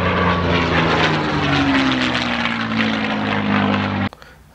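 A voice imitates a V12 Merlin aircraft engine, the kind fitted to a P-51 Mustang, producing a loud, steady, buzzing propeller-plane drone with a slowly sliding pitch that cuts off abruptly after about four seconds.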